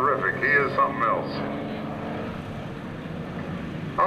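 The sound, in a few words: aerobatic airplane passing by at an air show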